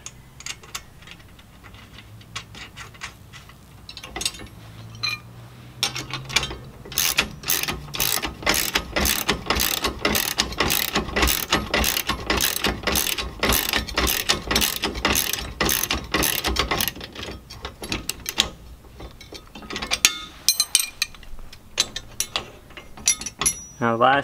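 Ratchet tightening a nut and washer on a flip-down automatic trailer jack foot, a long run of rapid, evenly spaced clicking strokes close by, with brief pauses and handling noise at the start and end.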